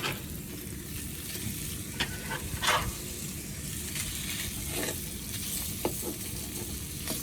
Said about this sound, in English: And now I go ahead and add the sausages.